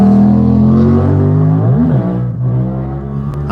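A motorbike engine revs hard as the rider pulls wheelies, loud and close, its pitch holding steady then dipping and surging again in short bursts.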